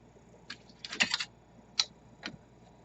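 A blade cutting through a polymer clay rose cane gives a few short, dry ticks and taps, with a cluster of clicks near the start and a couple of isolated ones after, close and fairly quiet.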